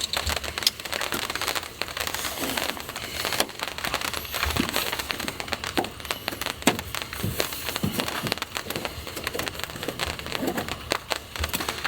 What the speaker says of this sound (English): It sounds like the rain's coming back in